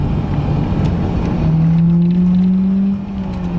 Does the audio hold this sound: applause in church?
no